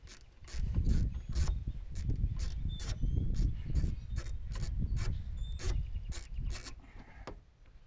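Ratchet clicking rapidly and close as a 7mm bolt is backed out of the cowl on an S10 truck, the quick mechanical ticks running steadily over several seconds.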